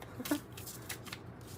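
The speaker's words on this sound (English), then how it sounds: "Just go ahead and give that a little shuffle like that and cut the deck." A deck of tarot cards is riffled and shuffled by hand, giving a few quick close papery bursts of flicking cards at a soft level.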